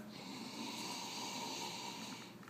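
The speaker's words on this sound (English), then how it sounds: "Let me take a sniff." A person takes a soft, breathy sniff from a glass of golden Belgian ale, quiet and close, with a faint airy hiss.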